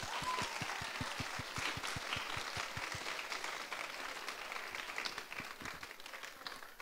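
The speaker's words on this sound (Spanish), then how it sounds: "quiero pedirles que ustedes mismos se den un aplauso" Applause from an audience at a financial education event, with a few rhythmic, evenly spaced claps at first, then looser continuous clapping that gradually softens.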